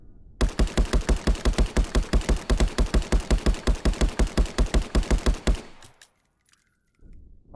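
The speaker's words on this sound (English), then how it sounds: "Every time I pull the trigger, one gets sent downrange." Rapid gunfire from a virtual firearm in a VR video game, about thirty sharp evenly spaced shots in a fast steady burst lasting around five seconds, loud and close, then stopping abruptly into near silence.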